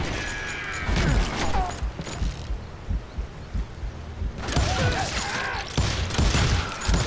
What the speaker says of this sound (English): now that the shooting had started, there was no backing down